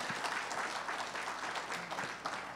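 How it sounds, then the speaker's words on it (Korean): Steady applause from a sizable audience at an award ceremony, a dense patter of clapping that holds evenly throughout at moderate distance. "큰 축하의 박수 부탁드리겠습니다"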